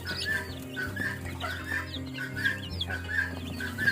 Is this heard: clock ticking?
no